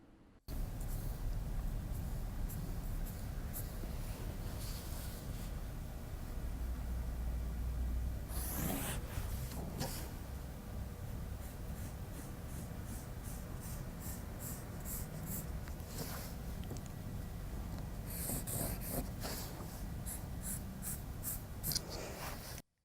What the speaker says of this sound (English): Watch the way I'm drawing the line.